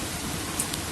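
Night rain in Guwahati, Assam falls as a brief, steady wash of hiss at moderate loudness, with no voices.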